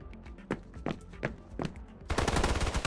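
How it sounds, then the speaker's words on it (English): Gunfire in the video game Snowbreak: a series of sharp single shots spaced about every third of a second, then a dense rapid automatic burst at the end, loud and close. "Gunfire caught me off, and I thought I heard Sapphire shout"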